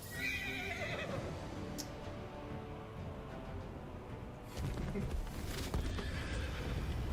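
A horse neighs in a video game amid fire-arrow combat, a drawn-out whinny over steady, dense game noise and clatter, with a louder burst of action partway through.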